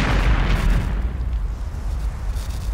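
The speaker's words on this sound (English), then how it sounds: "Explosions." A deep, rumbling video game explosion with a heavy low-end roar that slowly fades, with no one talking.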